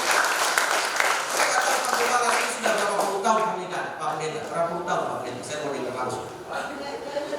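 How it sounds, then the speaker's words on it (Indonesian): Church congregation clapping during a Sunday worship service, a lively burst of applause mixed with voices and cheering that stays fairly loud and close, tapering slightly toward the end. "Tepuk tangan bagi Tuhan Yesus saudara."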